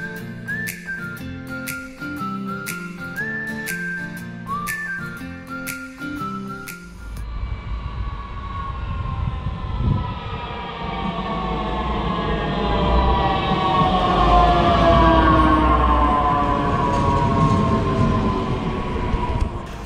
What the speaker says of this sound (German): Die gesamte S-Bahn von Rostock wird eigentlich nahezu ausschließlich mit den Talent 2 bedient.